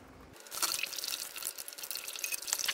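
Water dripping and trickling out of a Dodge 360 LA engine during teardown, a busy run of close splashes and drips after a brief quiet start.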